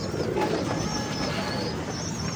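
Amamdeen pigeons, an old pure breed, cooing in a steady low murmur under broad background noise, several birds close by with no talk.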